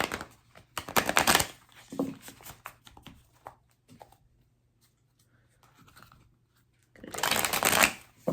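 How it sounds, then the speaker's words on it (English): A tarot deck is shuffled by hand close to the microphone, bursts of rapid riffling and crisp card slaps at the start and end with quieter handling and brief pauses between. "I'm gonna do a few shuffles for that question."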